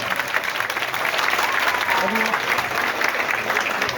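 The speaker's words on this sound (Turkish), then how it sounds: "herkes gönlünde sevdiği ve değer verdiği öğretmeni coşkulu bir şekilde alkışlayarak taclandırabilir mi efendim?" A crowd at a village association event applauds warmly to honour teachers, a steady, loud wash of clapping mixed with voices and some talk over it throughout.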